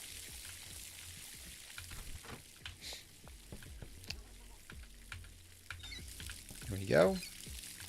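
Plants are watered in the video game Schedule 1, with a steady hissing pour running under the clip and a brief louder splash near the end; a voice speaks briefly.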